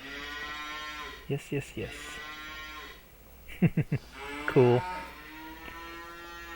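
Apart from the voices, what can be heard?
cattle mooing in the video game Farming Simulator 25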